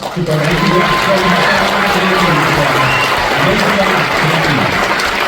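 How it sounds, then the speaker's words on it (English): Audience applause at a Sundance Film Festival Q&A, a full, sustained round of clapping from a crowd with a few scattered voices underneath, loud and continuous. "Big round of applause."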